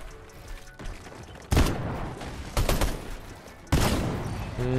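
Bursts of gunfire from a Fortnite match, with loud volleys of shots starting around the second and fourth seconds over continuous game noise and sprays of fire.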